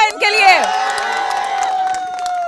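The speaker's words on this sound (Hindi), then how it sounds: "तालियां हो जाए इनके लिए।" Audience at a stage event breaks into cheering and whooping with clapping, loud and dense, a rising shout that settles into a sustained crowd roar over a couple of seconds.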